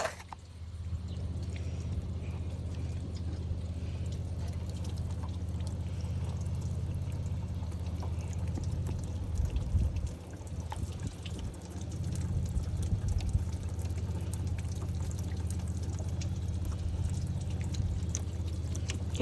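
Water trickles and drips steadily from the handle of a homemade 5-gallon toilet, a low continuous splashing and gurgling over a constant background hum, no speech.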